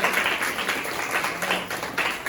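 An audience claps for a children's performance, a lively burst of applause with uneven surges and individual claps standing out.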